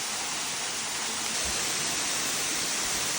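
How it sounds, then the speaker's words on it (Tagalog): Bigaho Waterfalls in Port Barton, Palawan roars in a dense, constant rush of broadband noise, loud and unbroken throughout. "Welcome to Bigaho Waterfalls."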